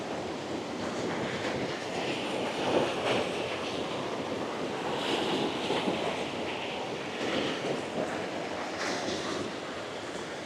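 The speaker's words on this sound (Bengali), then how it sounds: "এখানে জলের স্রোতটা খুব বেশি।" A strong stream of water rushes continuously in a hilly forest near a waterfall, a steady broadband roar mixed with some wind buffeting.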